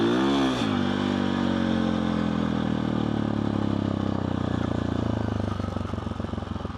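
Motorcycle engine held in second gear at low, steady speed on flat ground, a loud, even drone that carries through the whole stretch with faint mechanical clatter and no voices.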